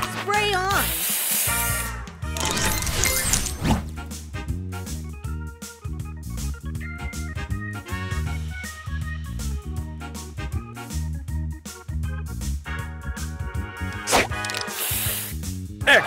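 Booster spray effect from the mobile match-puzzle game Match Masters: hissing, spraying bursts mixed into loud, busy game music with dense rhythmic chimes, running continuously throughout.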